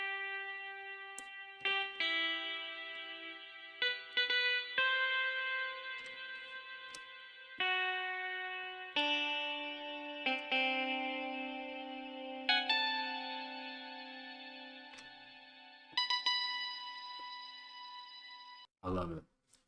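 A clean electric guitar synth preset plays chorus-tinged tones, a sequence of sustained chords and notes, each ringing out before the next, with a faint click at the end.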